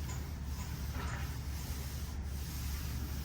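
A hand rubbing back and forth over a car hood's sheet-metal panel to feel for dents: a close, continuous dry scraping rub with no clear pauses and no talking.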